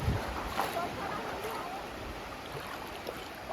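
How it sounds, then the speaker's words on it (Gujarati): Sea waves wash in a continuous, broad rush with wind buffeting the microphone during a shrimp-fishing trip on the coast; the surf stays steady throughout with no clear voices. "મોજા થઈ ગયેલા છે"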